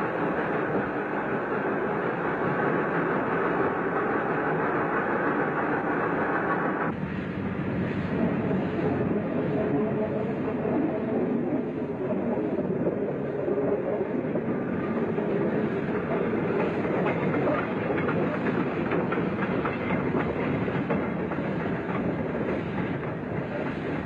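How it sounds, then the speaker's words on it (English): Steam locomotive pulling an old inspection saloon away from Ambarawa's old station on line toward Bedono, 1970s; a steady loud rumbling roar of engine and rolling wheels throughout, with no pauses. "A vigorous start was made from Ambarawa's old station, our train consisting of the locomotive and an old inspection saloon."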